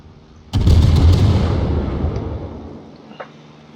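Napalm lobbed in a video game bursts in one loud, close boom, then a rumbling roar that slowly dies away, with a small pop just before the end.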